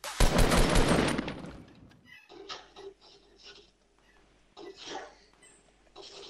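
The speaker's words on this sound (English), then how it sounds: "I got shot." Gunfire in the Fortnite video game: a loud, dense burst of shots at the start, then quieter scattered game sounds and clicks.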